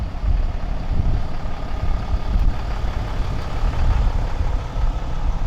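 A RAM 2500 pickup with a 6.7L Cummins diesel rolls down the road, its deep, loud engine drone and rumble holding steady and close throughout with no break.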